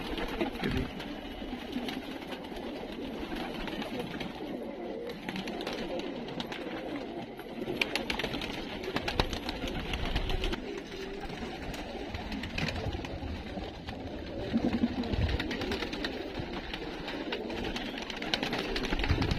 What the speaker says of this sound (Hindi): और जो मैंने आपको कबूतर दिखाए हैं वीडियो में, ये हमारी दुकान पर भी हैं